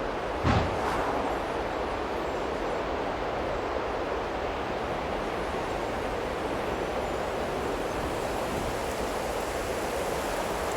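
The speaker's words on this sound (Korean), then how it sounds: "저 파도는 우리의 옷을 적시지 못해. 바다에 부는 바람은 정말 상쾌하네." Ocean waves and sea wind, a steady broad roar of surf and blowing air that holds evenly throughout, with a brief sharper gust or splash near the start.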